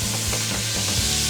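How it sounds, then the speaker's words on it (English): Soup ingredients sizzle in a pan as they are stirred, giving a constant close frying hiss with faint scraping strokes from the stirring, alone without voices. "Give that a little stir for me, please."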